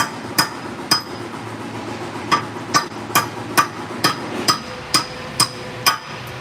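Hammer tapping a part into place on a truck, a steady series of about eleven sharp metallic strikes spaced roughly half a second apart, close and clear with no talk over them.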